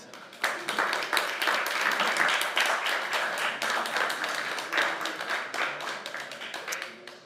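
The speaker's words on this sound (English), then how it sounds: "Please applaud." Audience applause at a panel discussion on empowering the future, a dense, steady wash of many hands clapping that starts abruptly and holds at a loud level for several seconds before slowly thinning out.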